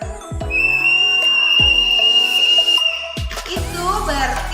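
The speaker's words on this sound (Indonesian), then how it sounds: "Bunda akan meniup peluit satu kali dan itu panjang" A single long, steady whistle blast held for a couple of seconds, with a few knocks and bumps around it and brief noise at the end.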